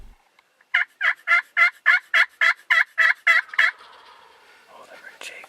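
A wild turkey gives a rapid run of about a dozen loud, evenly spaced calls in an open field, then softer scattered calling and rustling trail off into quieter ambience.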